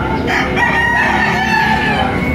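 A large, medium-high yellow-legged rooster at a Padre Garcia, Batangas gamefowl market crows loudly and close, a sustained call over a busy murmur of crowd noise.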